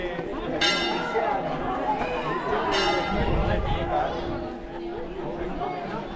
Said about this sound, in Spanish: Llegamos con la campana.